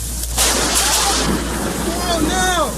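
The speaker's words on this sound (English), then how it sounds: "This strike in Bloomington was a classic flashbang bolt." A close lightning strike in Bloomington, Illinois, bursts into a loud thunder crack, then a sustained rumbling roar over rain, with faint tones sliding in the background.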